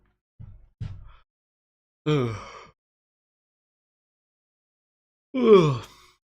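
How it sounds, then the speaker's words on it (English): A loud human yawn stands alone in silence, preceded by a couple of short breathy gasps, then a drawn-out, wavering vocal groan, and later a second strong, rising yawn-like moan. "That was a very loud yawn."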